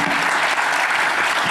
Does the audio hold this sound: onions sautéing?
no